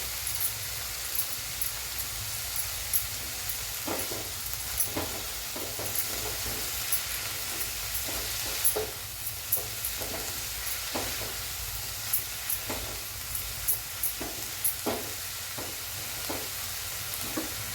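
A bhakri crumble mixture with plenty of coriander sautés in a pan, a steady soft sizzle running throughout with repeated scraping strokes of a spatula at an even pace.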